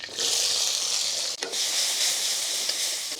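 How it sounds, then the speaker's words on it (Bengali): Onion, garlic and ginger frying in a small amount of oil for beef chilli give a loud, steady, close hiss, broken by a brief dip partway through before the sizzle resumes at full strength. "অল্প একটু তেল রেখেছি এখানে পেঁয়াজ রসুন এবং আদা একসাথে দিয়ে দিচ্ছি"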